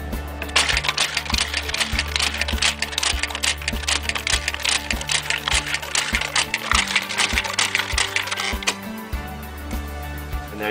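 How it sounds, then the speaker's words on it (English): A student-built access card organizing machine sorts a stack of cards, giving rapid clattering clicks and taps over a steady low motor hum, with brief pauses between bursts of mechanical rattling. "After we run it through the machine, they should all be sorted."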